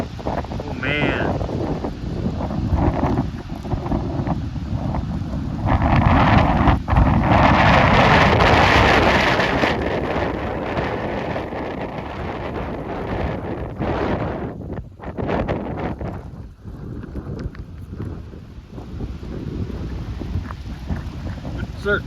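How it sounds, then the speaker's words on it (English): Gusty wind of up to 50 mph in Pullman, Washington buffets the microphone with a loud, roaring rush that swells and fades in strong surges over twenty seconds, with rain beginning to fall. "it's getting really windy."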